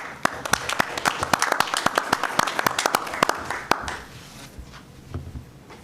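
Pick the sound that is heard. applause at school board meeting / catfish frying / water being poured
applause at school board meeting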